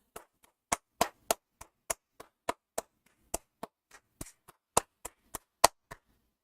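Single pair of hands clapping about twenty sharp, close claps at an irregular, slightly uneven rhythm, each crisp and isolated against silence.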